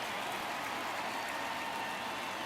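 Stadium crowd noise from a baseball All-Star Game in MLB The Show 23, a steady, dense roar of many voices and cheering that holds level and fairly loud throughout, with no distinct talk over it.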